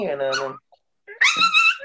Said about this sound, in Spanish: parece que hay un perrito que no entiende bien la, la fisiología